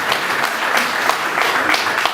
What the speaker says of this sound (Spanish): ¿Los padres no me aplauden acaso?